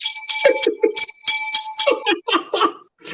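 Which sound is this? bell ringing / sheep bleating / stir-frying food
bell ringing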